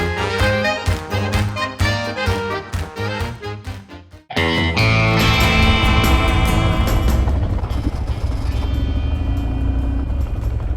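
Motorcycles ridden at an adventure bike festival, first a pulsing engine note with rhythmic revs, then after a brief drop a loud, sustained engine roar and rumble close by.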